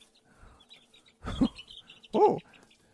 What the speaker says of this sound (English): Do you hear them in the background? I'm actually raising chickens